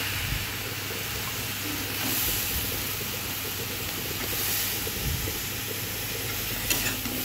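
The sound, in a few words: frying food with turmeric and salt in a pan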